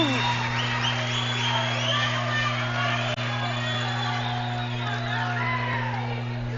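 A basketball crowd at a Tahlequah vs Collinsville game reacts to a foul call with a steady, dense roar of murmuring and scattered shouts that fills the gym throughout, while a voice talks over it.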